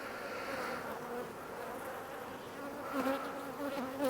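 Honey bees buzz steadily and close up in a nuc hive opened for a split, a dense continuous drone that swells slightly toward the end.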